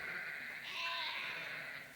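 Sheep on a hillside bleating, a single drawn-out wavering call rising in the middle, moderately near against quiet background.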